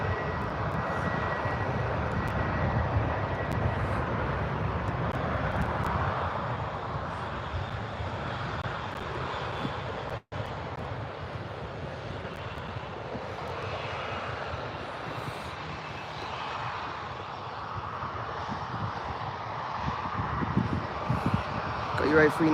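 An Airbus A319 airliner taxis at Birmingham Airport, its engines giving a steady, loud broadband rumble and whine that holds throughout while someone talks over it.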